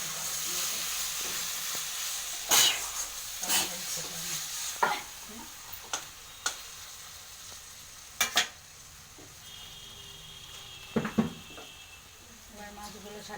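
Nigella seeds sizzle in hot oil for a Bengali bhola vetki fish curry: a steady soft hiss broken by sharp spatula scrapes and clinks against the pan, with brief bursts near the middle and end.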